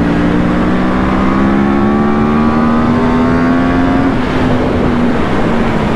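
A Yamaha R1 motorcycle engine revs and pulls hard, a steady rising drone climbing slowly in pitch over several seconds, loud and continuous with no talking.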